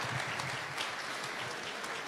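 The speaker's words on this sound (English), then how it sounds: "Big applause to Marta, please" A conference audience at a summit stage claps for a panel speaker, a brief, even wash of applause from many hands at moderate volume with no talking over it.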